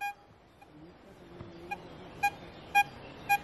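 A Vista X metal detector gives its dig signal as about four short, bright electronic beeps at a steady rhythm, rising out of faint background noise and a little low rumble.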